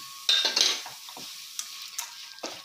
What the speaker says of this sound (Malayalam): ഇനി ഇതിലേക്ക് വറുത്ത് വെച്ച അണ്ടിപ്പരിപ്പ് മുന്തിരിങ്ങ ഇട്ട് കൊടുക്കാം.